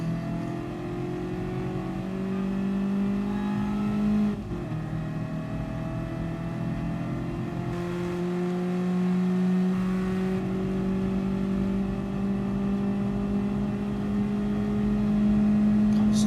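A Honda Beat engine in Gran Turismo Sport drones at high revs with steady harmonic tones that dip briefly at a gear change, then climb again, loud and continuous.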